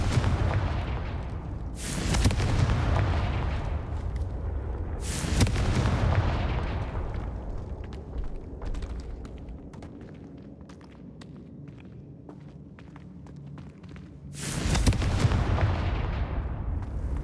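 Confringo blasting-spell explosions in the Hogwarts Legacy video game: three loud, sharp bursts spaced well apart, each with a rumbling tail, over a steady low game backdrop with faint footsteps between them.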